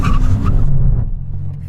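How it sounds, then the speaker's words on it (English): An Aston Martin V12 Vanquish brakes hard from 60 mph: a short, loud rush of car noise and tyre scrub that quickly dies away as the car stops. "Let's do a brake test from 60 miles an hour."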